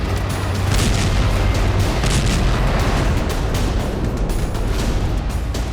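IED blasts set off against Israeli army tanks in Gaza, a loud dense wall of booming explosions and rumbling that continues without pause.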